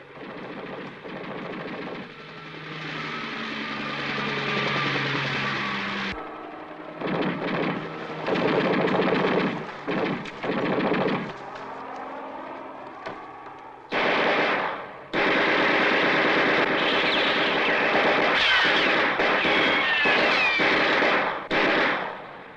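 Machine gun fire in a film battle scene, with loud sustained bursts of rapid automatic gunfire broken by short pauses and mixed with other battle noise.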